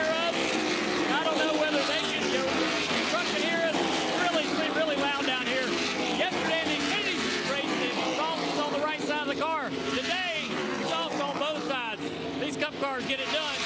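NASCAR Cup Series race cars roaring past at Nashville Superspeedway during the Ally 400, heard close from trackside, a continuous loud engine howl with repeated rising and falling pass-bys while people talk over it.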